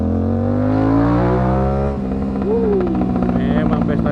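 Aprilia RS457 twin-cylinder sport motorcycle revving hard under acceleration, the engine note rising steadily, dropping at a gear change, then climbing again, loud and close with no talk.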